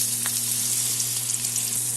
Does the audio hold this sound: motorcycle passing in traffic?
no